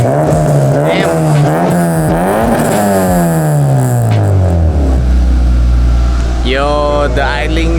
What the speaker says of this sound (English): the idling sounds super smooth